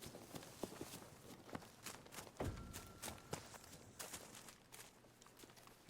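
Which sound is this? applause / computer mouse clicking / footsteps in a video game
footsteps in a video game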